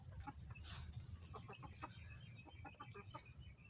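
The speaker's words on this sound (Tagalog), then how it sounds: "Yan, masisigla na sila mga kamanok." Backyard chickens at a small poultry coop cluck busily in a quick series of short, near calls, with the odd louder squawk over the steady flock chatter.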